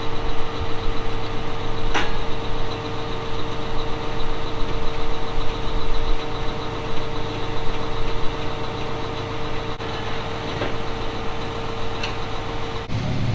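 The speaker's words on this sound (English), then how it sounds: "So this turbo till doesn't really get down and turn up the ground like you want it to." A tractor pulling a turbo till vertical tillage implement across a farm field, its diesel engine droning steadily and loud at close range with constant mechanical rumble and vibration.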